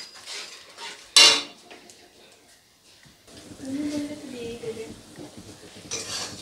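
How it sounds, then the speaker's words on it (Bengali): Tomato puree being stirred into mustard paste in a metal pan, with scraping and a sharp utensil clink near the start, then softer stirring under a person talking. "খুব ভালো করে সর্ষের সাথে টমেটো পেস্টটাকে একটু ততক্ষণ পর্যন্ত নেড়ে নেব"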